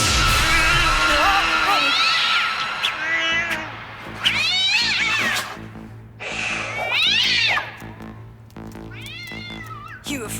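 A cartoon cat meows several times in drawn-out, rising and falling cries spaced a few seconds apart, heard over steady background sound.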